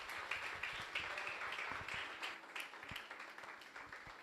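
A church congregation claps to welcome the preacher, a moderate continuous patter of many hands heard somewhat distant in a reverberant hall.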